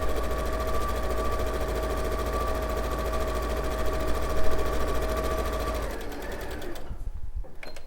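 A sewing machine stitching a quilt seam close to the edge, a loud, steady mechanical whirr with a constant hum that runs for about six seconds and then slows and stops.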